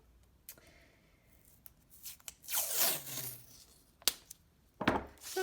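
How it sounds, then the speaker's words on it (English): One-inch artist tape is pulled from the roll to secure a watercolor page, giving a short rising tearing rip in the middle, with a few light taps and clicks before and after, close and quiet. "So first I'm going to start by taping the page down."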